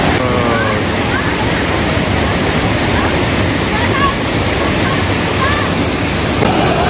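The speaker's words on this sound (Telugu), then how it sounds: "ఇదిగోండి కాంతన్పరా వాటర్ ఫాల్స్" Kanthanpara waterfall in the hills of Wayanad, Kerala, roars as a loud, steady rush of falling water that fills the air without a break.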